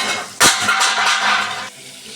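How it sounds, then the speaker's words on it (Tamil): Onions sauté in a pan with a steady sizzling hiss, opened by a sharp scrape of a stirring spoon, close and fairly loud, easing off slightly toward the end. "வெங்காயம் நல்லா வதக்கிக்கலாம். நல்லா வதங்கி"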